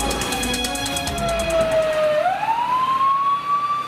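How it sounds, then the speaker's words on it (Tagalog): A fire truck siren wails steadily, dipping in pitch then rising into a long sustained tone, loud and close over low rumbling traffic, responding to a fire in Batasan Hills, Quezon City. "Umalingaungaw ang sirena ng bumbero sa barangay Batasan Hills"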